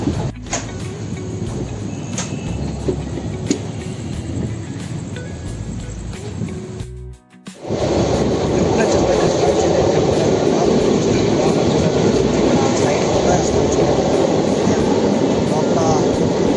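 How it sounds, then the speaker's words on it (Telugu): A train rumbles and roars as it gets moving, a loud continuous mechanical drone that briefly drops out, then returns steady and close. "ట్రైన్ అయితే స్టార్ట్ అయిపోయింది"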